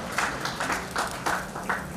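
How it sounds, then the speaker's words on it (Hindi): Audience at a university foundation day ceremony in Udaipur applauding, bursts of clapping swelling and fading in quick pulses, moderately faint and heard alone without talk. "जोरदार ताली के साथ स्वागत अभिनंदन।"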